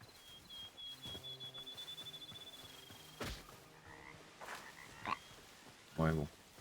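A frog in the video game Hytale croaks in a steady pulsing rhythm against a thin sustained tone, followed by a few sharp clicks and a louder croak near the end.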